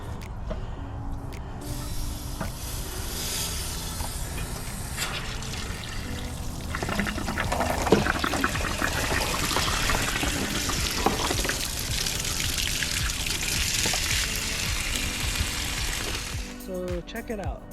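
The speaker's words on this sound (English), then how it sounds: "ran the hot water heater to drain as much of the hot water out" Hot water drains from a water heater tank in a steady, loud, continuous rushing gush that runs for most of the stretch and then cuts off abruptly near the end.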